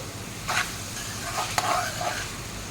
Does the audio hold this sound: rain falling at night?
no